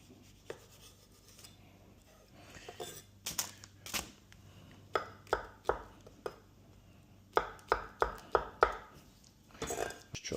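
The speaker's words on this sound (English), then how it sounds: "Just chop this up like so." A knife chops mango and other food on a cutting board during meal prep, with quick bursts of firm, rhythmic taps separated by short pauses, close and fairly quiet.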